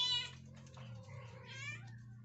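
Kittens from a calico mother's litter meow close by, a few clear, high, drawn-out cries, with one at the start and another near the end, over a soft background with no talking.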